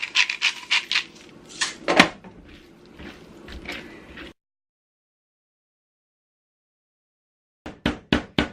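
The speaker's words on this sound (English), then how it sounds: "So I'm gonna pound it down into stir fry pieces." A mallet pounds raw beef heart into stir-fry pieces in a quick run of close, heavy thuds. After a silent pause, a few more blows land.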